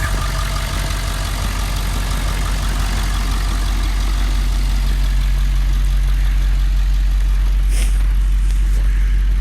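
A 2013 Ford F450 pickup's engine runs steadily and loud up close, a constant low rumble with no break while the truck backs up.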